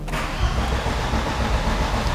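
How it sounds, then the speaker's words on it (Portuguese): A car engine cranks steadily on its starter motor with the throttle pedal pressed to flood-clear mode and the injectors cut, a continuous rough, loud, mid-low churning with no voices. "Conforme eu vou virando o arranque, se eu levantar o pé da borboleta, vocês vão ver que ele vai voltar a injetar e o motor vai pegar."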